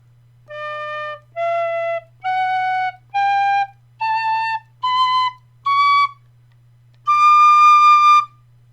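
A tin whistle in D plays a rising scale of eight separate notes, each held about half a second with short gaps, ending on a longer, louder high D; clear, close and solo.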